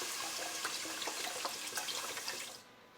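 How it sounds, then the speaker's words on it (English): Broth poured into a large soup pot, a steady continuous liquid rush with small splashy accents, close and fairly quiet, fading out at the end. "Into a large pot, add your broth."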